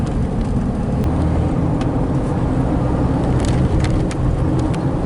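Steady loud road rumble from a lifted 2007 Dodge Ram 2500 carrying a 2018 Palomino HS-2902 Backpack Edition camper as it crosses a bridge, with a few faint knocks from the bumps riding over constant drive noise.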